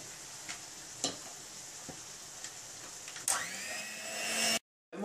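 Bacon fries in a pan for carbonara, giving a steady, quiet hiss with a few scattered pops and clicks. A louder stir swells near the end before the sound drops out abruptly.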